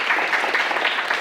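Audience applause at an academic award ceremony, the opening of the 7th Amgok Academic Award: a dense, steady patter of many hands clapping, fairly close and alone without speech.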